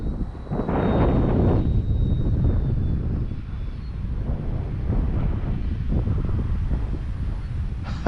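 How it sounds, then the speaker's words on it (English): Strong gusting wind buffets the microphone at an RC airfield, loud rumbling bursts swelling and easing, with a faint high thin whine of a small model aircraft motor early on. "that wind. Not making it very easy on me."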